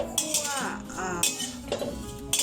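Galangal, lemongrass and kaffir lime leaves are stirred as they dry-roast in a pan, giving a run of clinking, scraping utensil strikes at close range with brief pauses between them.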